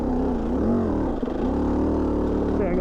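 A KTM 250 two-stroke dirt bike engine labors up a steep trail section in low gear, a steady droning note that sags briefly mid-climb then holds, heard close from the rider's position.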